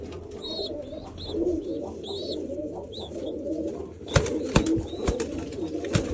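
Domestic pigeons coo repeatedly at a loft where squabs are being raised, with soft, rhythmic throaty calls over steady background noise and a few sharp clicks and knocks near the end.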